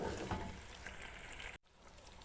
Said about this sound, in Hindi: अच्छा जी, बीफ हमारा फ्राई हो रहा है